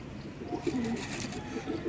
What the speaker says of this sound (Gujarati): આ માથે બેઠા છે કબૂતર હજી દેખાડું તમને